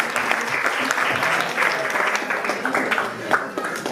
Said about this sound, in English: how about a big round of applause for all the performers, singers, dancers,